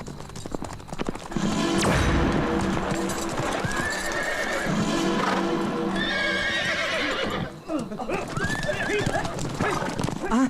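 Horses pulling a royal chariot neigh loudly several times over a steady rumble of hooves and wheels, close and prominent, with a dog barking briefly in a dramatic scene.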